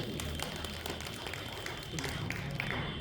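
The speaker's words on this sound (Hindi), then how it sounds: "देखो भाई, ताली बजाओ इस बात को" An audience at an ashram gathering claps hands in steady, moderately quiet applause with individual claps audible, lasting a few seconds while a voice speaks over it.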